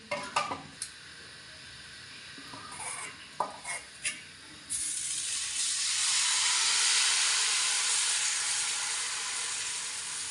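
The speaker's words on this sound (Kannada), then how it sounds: "ಈಗ ನೋಡ್ರಿ ಇದು ದೋಸೆ ಹಿಟ್ಟು ಹೆಂಗೆ ಹಾಕ್ತಾರಂತ ನಿಮಗೆ ತೋರ್ಸಾಕತ್ತೀನಿ" Dosa batter for a homemade masala dosa hits a hot pan, giving a loud, steady broadband sizzle that swells and holds after a few light utensil clinks at the start.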